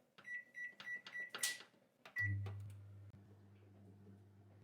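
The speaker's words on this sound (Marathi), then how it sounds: "आता इथे हे मायक्रोवेव्ह मी 5 मिनिटं प्रीहीट करून घेतलेले। आपल्याला कन्व्हेक्शन मोडवरती 180 डिग्रीला 25 ते 30 मिनिटं याला बेक करून घ्यायचं आहे।" A microwave oven set to convection mode at 180 degrees for baking a banana cake gives a string of short keypad beeps, then starts up with a steady low hum that runs on to the end.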